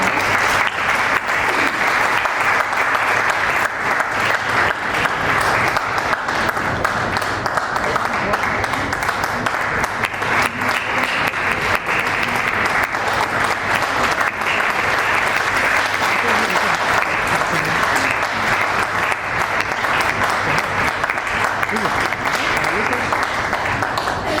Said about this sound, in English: Let's give a huge round of applause for Mr.